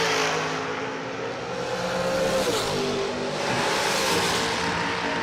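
A drag racing dragster engine rumbles loud and close at a drag race event, a sustained throaty roar with rising and falling pitch over about five seconds, no voices.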